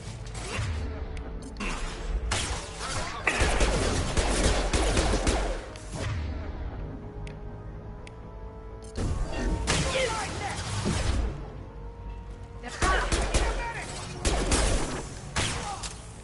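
Weapon fire and combat sounds in the sci-fi shooter Mass Effect 2, coming as bursts of loud, harsh shots and impacts in several clusters, broken by quieter gaps full of mechanical clatter.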